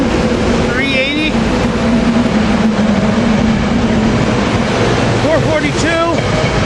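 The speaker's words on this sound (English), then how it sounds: "There goes the Trenton train." A SEPTA Silverliner IV commuter train bound for Trenton rolls past with a steady, loud broadband rumble and rush lasting throughout, while people talk over it.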